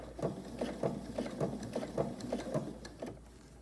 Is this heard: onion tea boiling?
no